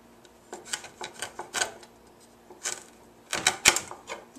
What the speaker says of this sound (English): So we're just going to cut those off.